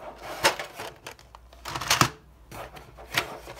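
Plastic trays of Arteza colored pencils being lifted out of their packaging, giving scattered clicks, knocks and rattles of plastic and pencils, fairly faint and irregular.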